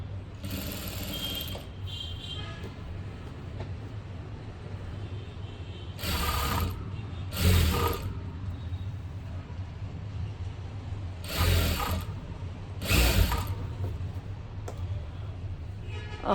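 A sewing machine stitches a plain blouse in short bursts of rapid mechanical clatter, several runs spaced out over a quiet background hum, with someone talking between and under them.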